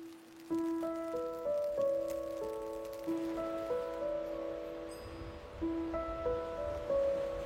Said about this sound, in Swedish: Ja, det var inget våldsamt regn det där.